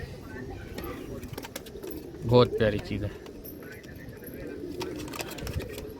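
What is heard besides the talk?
pigeons cooing at a pigeon farm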